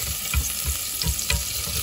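Shallots sizzle in hot cooking oil in a pan for a Vietnamese bottle gourd soup, a steady close frying hiss with soft stirring pulses, no voices.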